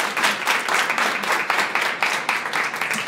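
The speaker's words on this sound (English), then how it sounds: "Please give them a big round of applause." Audience gives a big round of applause at a ceremony, steady rhythmic clapping at close range that continues throughout without pause.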